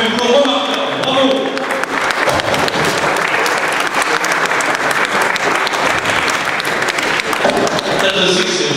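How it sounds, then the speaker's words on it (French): Audience applause at a 2015 crime-fiction and police-stories book fair: dense, steady clapping from a crowd that fills the whole stretch, with a few voices mixed in. "Je voudrais que vous applaudissiez énormément Cécile, Pierre et tous leurs compagnons"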